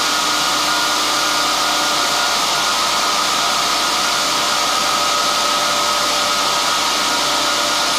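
The Alexanderson alternator transmitter at SAQ Grimeton in Sweden runs at steady speed, a constant loud machine drone with a sustained whining tone and no talk.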